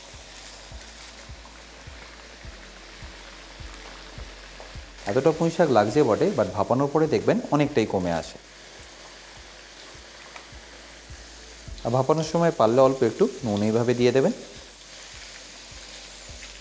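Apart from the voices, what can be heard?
potatoes frying in a pan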